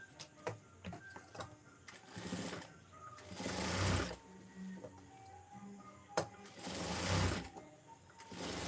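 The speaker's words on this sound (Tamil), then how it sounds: "இப்போ நான் இதில் தையல் போட்டு கரெக்டாக எடுத்துக்கிறேன்." A sewing machine stitching fabric in repeated short runs, two longer whirring bursts rising and fading amid clicks and handling noise, fairly faint and close.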